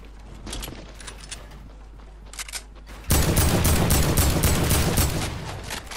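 Fortnite gunfire from a third party: faint distant shots at first, then a sudden loud, dense burst of rapid overlapping shots that continues for several seconds.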